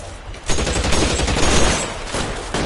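Sustained burst of video-game gunfire in L.A. Noire, a dense, loud rattle of shots that swells after a brief pause and runs steadily to the end, with no talk over it.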